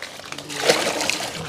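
Water sprays from a pipe while the area around a well is cleaned, giving a close, hissing splash and slosh with uneven bursts.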